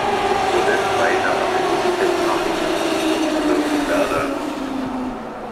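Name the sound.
S-Bahn Berlin class 480 train moving on the Ringbahn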